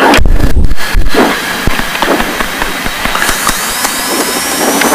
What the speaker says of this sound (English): go ahead and engage the starter and put your hand on the mixture